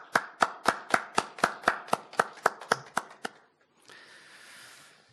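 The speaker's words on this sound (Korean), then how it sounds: "우리 한번 박수로 하나님께 영광 돌리겠습니다." A congregation at a Friday all-night church worship service claps in unison, about a dozen sharp, evenly spaced claps ringing through the hall before they stop, followed by a softer murmur of room noise.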